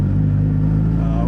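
Chevrolet Cruze with a 1.8 turbo engine breaking up on a race pass, a loud, steady low droning rumble held close throughout with no letup.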